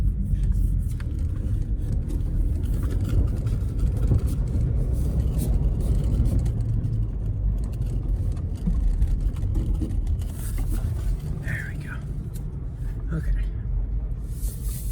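Toyota Tacoma truck rumbling as it pushes out of a snowy driveway, a low, steady engine drone that stays loud and close throughout the drive.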